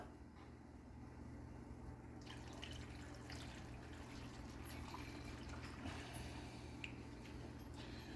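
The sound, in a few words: pouring water into a pan of venison stew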